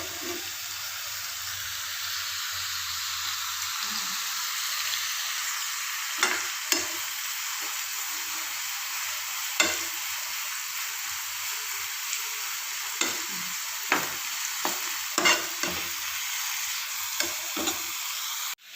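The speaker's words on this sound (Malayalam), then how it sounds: "നമുക്കിതൊന്ന് നന്നായിട്ടൊന്ന് വഴറ്റിയെടുക്കാം" Crushed garlic sizzles with onion and tomato in a pan, a steady bright frying hiss running throughout, broken by scattered scraping stirs and small clicks, close and alone without voices.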